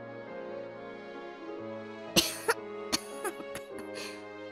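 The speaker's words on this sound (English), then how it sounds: "It's so dusty in here, it's making me cough" A video game character coughs several times in a dusty, dark room with no windows, short sharp hacks close up over a calm, steady game music background.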